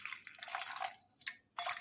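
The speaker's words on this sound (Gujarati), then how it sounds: "હવે એમાં આપણે 1 વાટકી જેટલું આપણે પાણી ઉમેરી દઈશું" About a bowl of water poured into a chili and coriander-cumin spice mix for Kathiyawadi gathiya curry, splashing in close bursts with short pauses between pours.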